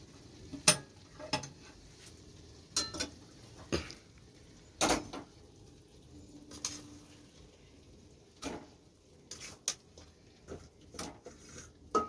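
Mutton curry being moved from a pan into a pressure cooker, heard as scattered sharp clinks and scrapes of a metal spoon against cookware, spaced irregularly in a quiet room.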